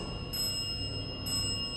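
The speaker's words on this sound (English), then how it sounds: "That bell's going off like crazy!" An electronic bell device used for ghost hunting rings inside a hotel, sounding as a steady, faint high-pitched tone that holds throughout with brief louder bursts, alone with no talk.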